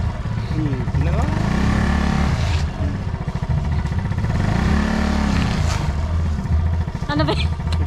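A Yamaha Mio Sporty scooter is ridden, its engine droning steadily close by and swelling with throttle changes, while people talk over it throughout.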